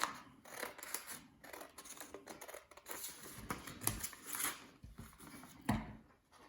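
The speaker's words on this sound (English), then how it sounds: "And what we're going to do is we're going to cut the arms out. So you cut up the fold." Scissors snip through folded paper to cut out arm shapes at a church craft session, giving a run of close, crisp crunching cuts with irregular rhythm and no talking.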